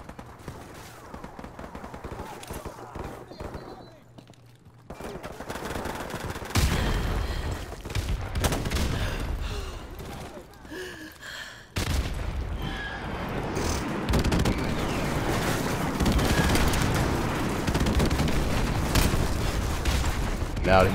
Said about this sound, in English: did you just shoot randomly at the wall?